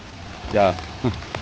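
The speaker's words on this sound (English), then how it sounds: "in the storm in the raining in the windy look at that" A steady hiss of rain pouring in a windy storm at an outdoor Lao New Year event in Dallas, Texas, while a voice speaks briefly over it.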